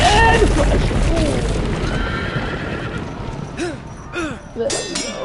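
A horse in the video game Telltale Game of Thrones neighs loudly with a long whinny, accompanied by clip-clopping hooves, followed by a few shorter snorting whinnies near the end.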